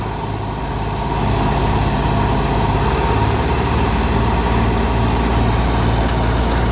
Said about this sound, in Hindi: फुल रेस दे दिया हमने। हाँ, पावर है, बहुत पावर है।